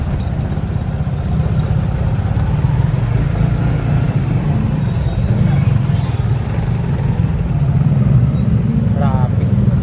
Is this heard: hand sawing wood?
no